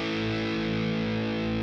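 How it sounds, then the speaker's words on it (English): A Boss Katana MK-II guitar amp sustains a distorted chord with plate reverb, a steady, even tone that rings on without a break. "It's the plate reverb."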